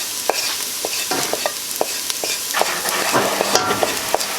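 Golden-brown onions sizzle steadily in a pan as curry powder is stirred through, with a spoon giving sharp, irregular scrapes and taps over the constant frying hiss, close and fairly loud, no talking.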